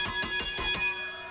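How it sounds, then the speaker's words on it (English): A wrestling ring bell at a live 2005 wrestling show in Birmingham rings in four or five rapid clangs, each strike leaving a sustained metallic ring that fades out. "Calling for the bell."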